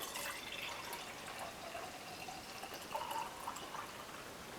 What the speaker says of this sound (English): pouring the stuff that's on top, leaving the stuff behind